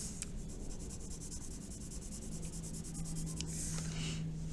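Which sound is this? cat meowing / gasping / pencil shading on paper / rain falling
pencil shading on paper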